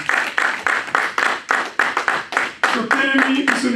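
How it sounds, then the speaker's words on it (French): A church congregation claps together in praise of Jesus, a steady run of sharp, loud handclaps with voices rising beneath them, shifting into singing toward the end. "Acclamons pour Dieu. Acclamons Jésus."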